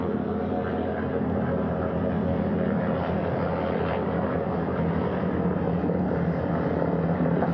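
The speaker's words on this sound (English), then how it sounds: "The first helicopter coming in." A helicopter hovers and comes in to land on a ship's flight deck near the bow, a steady, fairly distant rotor and engine drone that holds constant throughout, with no talking.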